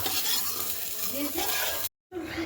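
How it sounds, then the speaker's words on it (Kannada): Onion, garlic and coriander leaves fry in two spoons of oil with a close, steady sizzle and stirring scrapes. The sound breaks off for a moment and then resumes. "ಎರಡು ಸ್ಪೂನ್ ಎಣ್ಣೆ ಹಾಕಿ ಕೊತ್ತಂಬರಿ ಸೊಪ್ಪು ಈರುಳ್ಳಿ ಬೆಳ್ಳುಳ್ಳಿ ಹಾಕಿ ಹುರ್ಕೊಬೇಕು ಕೆಂಪು ಬಣ್ಣ ಬರೋವರೆಗೂ ಹುರಿಸ್ಕೊಬೇಕು"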